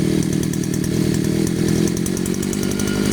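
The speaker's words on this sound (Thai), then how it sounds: "นี่คือเร่งแล้วนะครับ ใบพัดยังไม่หมุน เร่งขึ้นเรื่อย ๆเห็นไหมครับ" A small Chinese TU43 two-stroke brush cutter engine revs steadily at high speed with the blade not yet spinning, a continuous buzzing drone with no voices.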